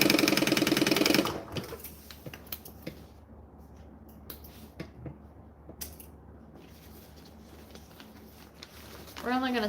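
A sewing machine runs in a fast, steady buzzing burst while stitching an order, then falls quiet into small handling clicks and snips, with a brief whir at the end.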